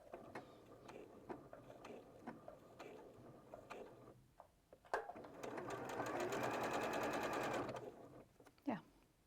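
Sewing machine running a zigzag stitch with narrow width and very short stitch length, a steady fast whirring hum lasting a few seconds after lighter clicks and handling noises, with people talking around it.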